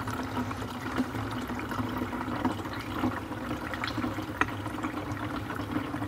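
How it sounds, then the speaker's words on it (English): Liquid pours through a funnel back into a gallon jug, giving a steady, moderately quiet gurgling trickle for several seconds, with a small clunk near the end and no one talking. "So let's dump this back into my gallon here."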